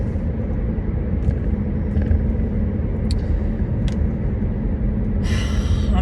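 A car being driven on a road, a steady low rumble of engine and tyre noise with a few faint clicks and a brief hiss near the end.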